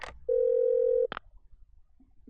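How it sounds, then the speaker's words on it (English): A toy phone in the video game Parasite Eve 2 places an outside call, giving a single steady electronic dial tone that lasts under a second between short beeps, clean and prominent with no talk. "wonder if this toy phone can make outside calls."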